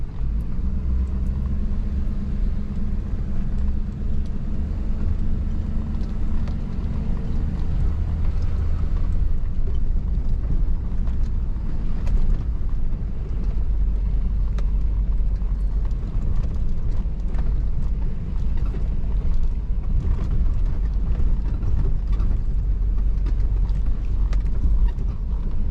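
A truck climbs a dirt road at the tiny cabin, its engine a continuous low rumble heard from inside, with bumps and rattles scattered throughout the steady drive.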